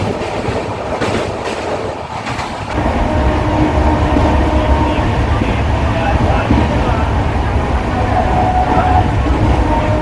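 A Howrah–Dhauli Express passenger train crosses the Kolaghat bridge, its loud, steady rumble and clattering wheels filling the whole stretch, with a brief dip early on before the roar swells and holds.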